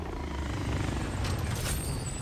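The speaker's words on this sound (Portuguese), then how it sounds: "Helicóptero inimigo na AO. Derruba ele e recupera o dinheiro." Enemy helicopter in Call of Duty Warzone, a steady loud rotor thrum with heavy low rumble lasting throughout the short stretch and no talking over it.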